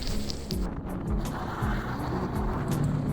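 A Mercedes S500 Coupé driven hard, its engine a steady low rumble with rising and falling pitch as it accelerates, heard from inside or close by with road and wind noise over it.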